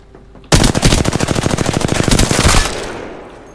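A rapid automatic burst in Apex Legends, about two seconds of sharp, evenly spaced shots fired close and loud, followed by a fading echo.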